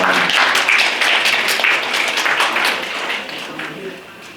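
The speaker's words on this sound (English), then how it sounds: "let's give a round of applause for Mr." A panel discussion audience applauds a guest, a brisk burst of many hands clapping that fades gradually toward the end.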